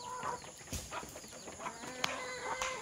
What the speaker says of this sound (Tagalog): Pakain tayo sa ating mga alagang manok guys.